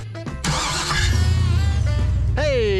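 A truck engine cranks and turns over roughly as the starter fails to engage, a loud grinding mechanical whir that surges and then revs up near the end.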